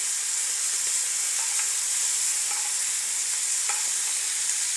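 Steak sizzles steadily in a hot pan with melted butter while being basted, a dense continuous frying hiss broken by a few soft clicks of a spoon.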